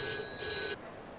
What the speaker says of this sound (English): Payphone's ringing.